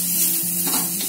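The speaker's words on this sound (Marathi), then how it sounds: "टोमॅटो पण जरा परतून घेतले" Tomatoes sautéing in a pan for a broad bean gravy, a short burst of steady close sizzling with faint stirring underneath.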